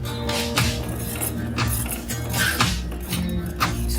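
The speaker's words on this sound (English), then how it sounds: "Add half tablespoon of turmeric into the milk. And keep on stirring" A spoon scrapes and clinks against a metal pot while boiling milk with turmeric is stirred, a series of irregular metallic taps and chinks repeating close up over a low simmering hum.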